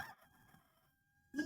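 A rooster crows at close range as a short, loud sound effect, rising sharply at the end after a quiet lead-in.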